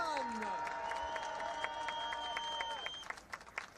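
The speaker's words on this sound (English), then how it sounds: "Et bien voilà les applaudissements pour Jonathan Milan." Crowd applause for the stage winner on the podium at the Tour de France, a continuous patter of clapping running beneath steady sustained tones, then thinning into a few scattered claps at the end.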